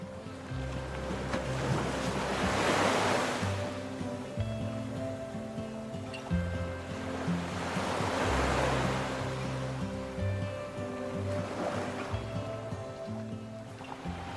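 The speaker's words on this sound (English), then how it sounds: "At Piedra Playa, the wind accelerates across open sand and waves strike with unsentimental force, the sea revealing itself as pure power" Atlantic waves breaking on the open sand beach at Piedra Playa, Fuerteventura, in strong wind: three loud surges swell and recede across the stretch, with wind roar and a low musical bed throughout, no voices.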